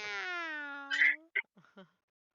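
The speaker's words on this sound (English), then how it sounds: "Lulu is not a happy cat today." Lulu, an unhappy house cat, lets out a long, drawn-out meow followed by a few shorter, clipped complaints, close and fairly quiet with no voices.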